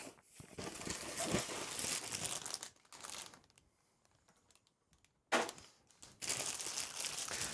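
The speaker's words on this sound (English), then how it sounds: "So just opening the box." Packaging crinkles and rustles up close as the box of a Banpresto Deku statue is opened, with a quiet pause midway before the crinkling resumes.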